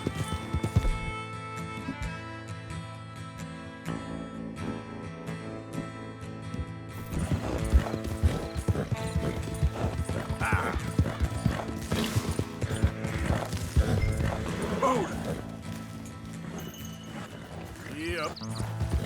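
Rhythmic clip-clop of horse hooves in Red Dead Redemption II on PS4 Pro, over game music and effects, with occasional whinnies and a voice talking over parts of it.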